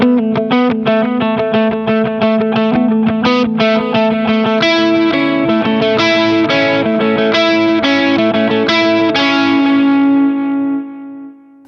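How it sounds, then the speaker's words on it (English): Electric guitar on its bridge humbucker, run through a Line 6 Helix patch, plays a sustained, moderately driven verse part with chords and ringing notes, steady and loud, then decays at the end. "So when I go to this verse section, I'm still on the humbucker."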